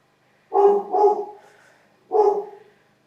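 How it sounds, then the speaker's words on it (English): A dog barks indoors during a home dumbbell leg workout: two quick barks, a short pause, then one more, close and clear with no talk over them. "And now there goes my dog."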